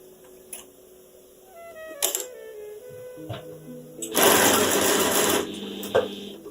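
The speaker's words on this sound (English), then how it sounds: "we're going to take this to the machine, and we're then going to sew a 1/4 inch seam all the way along" Sewing machine stitching a quarter inch seam, with short mechanical whirs and clicks at first, then a louder continuous run of stitching before it stops with a final click.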